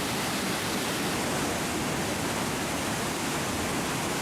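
Roar of Iguazu Falls in Argentina, a dense, unbroken rush of falling water at steady moderate loudness with nothing else heard.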